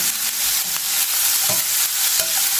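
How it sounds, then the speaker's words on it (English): Sliced ivy gourd sautés in a pan, with a loud, steady, close sizzle and a few soft stirring scrapes, no voices. "let them fry till it is nicely cooked"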